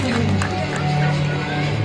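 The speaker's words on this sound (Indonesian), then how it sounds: "Tepuk tangan dulu biar semangat kakak penyelamnya ya untuk menyelami ikan hiunya" Visitors at Sea World aquarium clapping for a diver about to swim among sharks, a continuous blur of crowd clapping mixed with murmur and cheering throughout, fairly loud and close.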